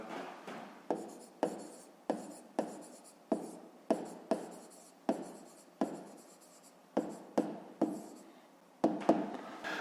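A pen writes on paper while a 5th-grade math exercise is worked out, making a steady run of short, crisp scratching strokes in regular bursts, close and clear with no talking.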